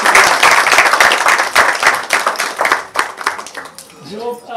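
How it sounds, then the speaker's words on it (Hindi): Theatre audience applause at an acting class showcase, a burst of clapping that thins and fades within a few seconds as a voice begins to speak. "आप सब अपने लिए बहुत भरपूर सी तालियां बजाएं"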